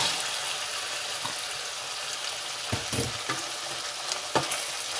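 Potatoes and mutton mince sizzle in hot ghee in a pan, a steady close frying hiss broken by a few scraping knocks as the mixture is stirred.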